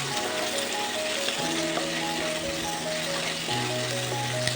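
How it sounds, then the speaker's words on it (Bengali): Potatoes fry in a pan with turmeric and salt, giving a continuous soft sizzle and crackle close by, with light scraping now and then and no talking. "দিয়ে এটাকে আবারও ভাজতে থাকবো"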